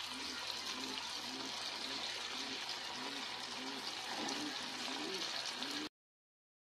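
Sabudana sticks dropped one at a time into hot oil give a steady, close bubbling sizzle that runs evenly and then cuts off.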